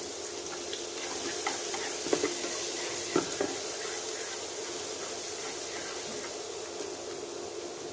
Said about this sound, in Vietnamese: mình đã đổ bớt dầu ra rồi chừa lại chút xíu mình cho tỏi ra